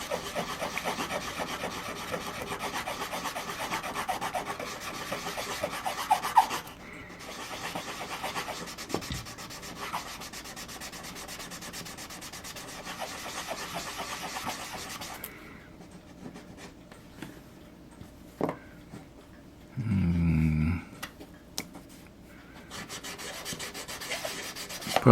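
Continuous scratchy rasping of hand sanding with sanding sticks on a model ship, close and steady, pausing briefly partway through before resuming with lighter rubbing strokes.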